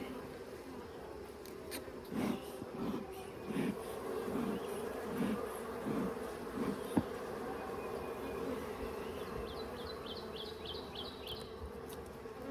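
Honey bees buzz steadily around an opened Layens hive during a frame-by-frame inspection, a dense, continuous droning swarm close by with a few louder passes of individual bees.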